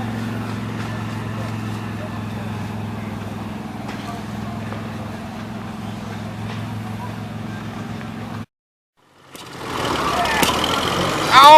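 Engines run at an outdoor steam and tractor show, a steady low mechanical drone with faint voices, cutting to silence before a louder, busier burst of noise at the end.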